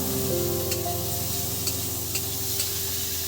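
Chopped onions sizzle and fry steadily in a little oil in a pan for chicken curry, a continuous close crackle with faint stirring and no talk.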